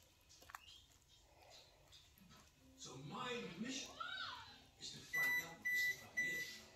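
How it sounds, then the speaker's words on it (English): A kitchen oven timer beeps three times in steady succession, loud and close, after someone talks while layering meat for a Mexican lasagna. "Oh, that's my oven."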